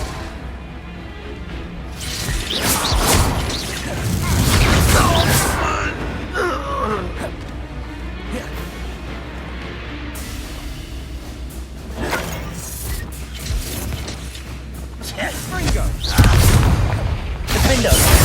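Confringo blasting spells in a Hogwarts Legacy duel, with booming impacts and crashes at intervals amid combat noise, a gasping or moaning voice and character speech.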